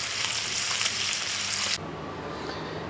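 Food browning in a pan over a wood-fired stove sizzles steadily and fairly loudly for nearly two seconds, then drops to a softer crackle as the hiss fades.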